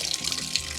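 Cool mountain water runs and splashes in a steady, close hiss with small gurgling bursts, heard briefly with no talking.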